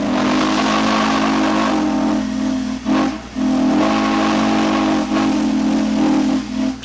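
A steam locomotive on the Crab Orchard & Egyptian railroad blows its whistle, a loud, sustained hissing tone that sounds in several long blasts with brief breaks between them.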